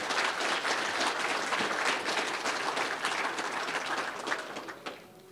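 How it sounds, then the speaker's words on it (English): At a winter workshop Q&A panel, an audience applauds the day's speakers, with sustained, even clapping from a roomful of people that thins out and fades near the end. "let's just give all of our speakers a round of applause for today"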